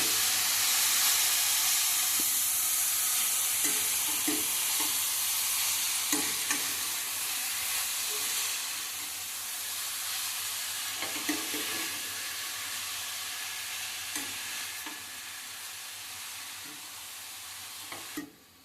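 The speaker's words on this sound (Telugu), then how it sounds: "ఈ క్యారెట్ తురుముని పచ్చివాసన పోయే వరకు ఫ్రై చేసుకోవాలండి." Grated carrot fries in a pan for carrot halwa, a continuous close hiss and sizzle with intermittent scraping knocks of a spoon stirring it, steady for the whole stretch and easing slightly toward the end.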